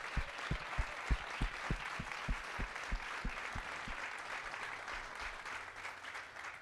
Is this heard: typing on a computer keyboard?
no